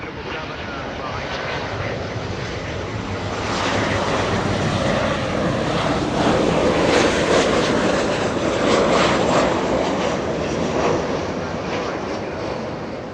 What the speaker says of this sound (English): a KC-135 flying over LAX right now